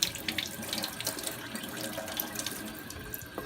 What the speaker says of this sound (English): now you're washing the carrots and the potato.